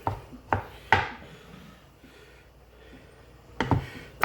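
A knife chops drained canned stewed tomatoes on a cutting board for goulash, three quick thuds, a quiet pause, then another short cluster of cuts, close and fairly soft.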